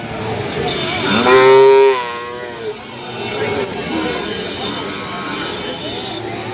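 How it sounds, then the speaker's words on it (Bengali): Sahiwal calves at a busy cattle market, with one loud, close, drawn-out moo and a fainter second call that follows, set against crowd murmur and background chatter. "বাছুর গরুগুলো ক্রয় বিক্রয় করা হচ্ছে সেই গরুগুলো ওরে বাবা"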